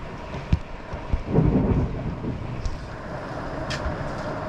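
Thunder from a nearby lightning strike rumbles low and close over steady rain at a Badlands National Park campsite, swelling into a loud roll and then fading into a long, dull rumble.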